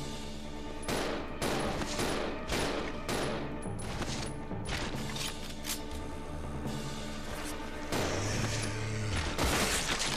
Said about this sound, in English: I have a good gun. It shoots lots of ammo and shoots it fast.